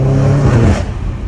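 A BMW M5 Competition fitted with new downpipes revs briefly, a loud, close engine roar whose pitch sweeps and then falls away over a second, with no talking.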